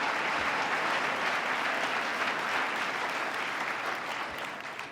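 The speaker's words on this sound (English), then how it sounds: "Let's give them another round of applause for not applauding for anything." A large audience at a governor's agenda speech in New York breaks into sustained, thick applause, steady and fairly distant, easing slightly toward the end with no speech over it.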